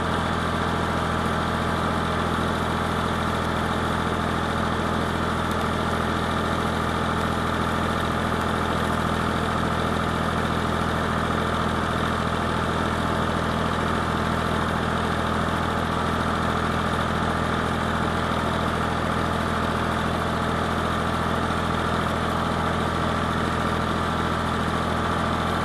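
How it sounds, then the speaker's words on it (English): A vehicle engine runs steadily while climbing a wet hill during field work, a constant loud droning hum with a strong low rumble and little change in pitch, heard alone without talk. "Listen to the engine."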